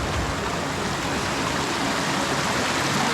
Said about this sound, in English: we have a creek crossing.